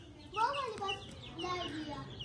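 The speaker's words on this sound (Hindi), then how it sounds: "ये मुर्गी है" Soft clucking from a hen among backyard chickens, a few warbling calls close by, with faint voices and background bustle underneath.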